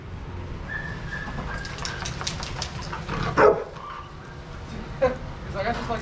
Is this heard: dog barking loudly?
yes